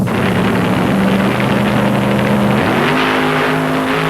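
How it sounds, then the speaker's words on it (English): A Keystone Engineering drag racing car, driven by Steve Kaminsky, roars through a solo run at the 1972 UDRA Spring Nationals, its loud sustained engine howl holding steady and then shifting to a higher pitch partway through. "Here's the Keystone Engineering car in a solo run"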